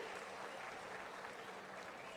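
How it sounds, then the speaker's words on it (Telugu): Steady applause from an audience at a public address by a state chief minister, a dense even patter of clapping filling the whole moment with no voices over it. "చప్పట్లు కొట్టి మీరు కూడా అభినందించండి."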